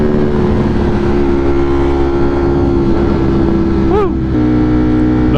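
A powerful production motorcycle cruises in a steady loud engine drone, with a brief rising rev and pitch shift near the end as the rider upshifts, wind noise constant throughout.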